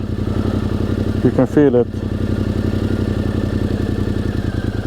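A motorcycle engine idles with the clutch engaged at the point where the bike starts to pull forward, a steady close mechanical chugging pulse throughout, with a short remark spoken over it.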